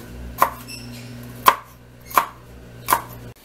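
A kitchen knife chops vegetables on a cutting board for picadillo, four sharp, evenly spaced knocks, close and crisp, with no talking.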